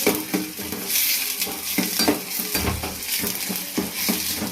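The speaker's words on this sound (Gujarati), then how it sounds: "ડુંગળીને આવી રીતના સતત હલાવતા રહેવાનું, જેનાથી તે ચોંટે નહીં નીચે" Onions are stirred continuously as they fry in a pan, with a constant loud sizzle broken by repeated scraping and clinking of the spoon against the pan.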